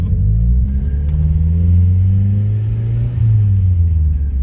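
A turbocharged 200 WHP Mazda Miata engine drones loud and close from inside the car, its pitch rising and falling through revs with a brief dip near the end.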